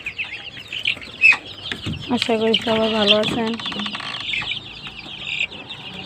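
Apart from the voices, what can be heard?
25-day-old native chicks clucking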